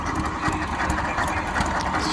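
Static vintage vehicle engine idling at an outdoor show at Scone Palace in Scotland, a steady dense mechanical chatter with a low throb that holds constant throughout, close and fairly loud.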